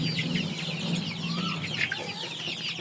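Chickens on a farm cluck and murmur in a continuous, close group chatter, with a few louder calls rising over the flock. No one speaks.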